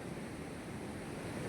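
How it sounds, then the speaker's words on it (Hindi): The Dasan river near Chhatarpur runs in a fast monsoon current, giving a continuous broad rushing wash of water at steady, fairly faint level, with no voices. "ये देख लीजिए कितने इस नदी का बहाव"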